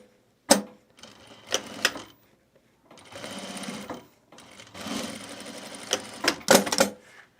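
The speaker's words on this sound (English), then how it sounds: "Let's just sew this one side and then we'll do the other." A sewing machine stitches along one side of a fabric bag in several short close bursts, each starting with a sharp clack and separated by brief pauses.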